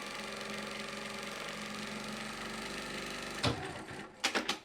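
A sewing machine stitches along a seam with a steady, close mechanical whir and rapid needle chatter, then stops, followed by a few sharp clicks and handling knocks.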